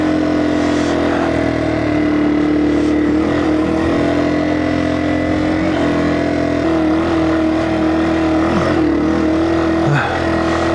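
Yamaha TW200 motorcycle ridden through mud, a steady close engine drone with slight revving shifts, joined by splashing and rumbling from the wheels.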